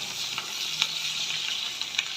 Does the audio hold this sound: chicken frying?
yes